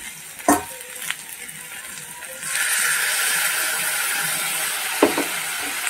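A ground paste of cumin, white mustard seeds, chilli and a little salt drops into a hot pan and sizzles loudly. A steady, hissing fry follows a few light clanks and runs on without any talk.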